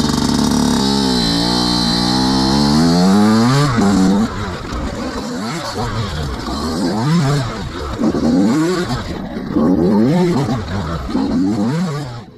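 Motocross motorcycle riding figure eights, its engine revving up and easing off in repeated rising and falling sweeps as it loops, loud and close at first, then swinging nearer and farther in a steady cycle.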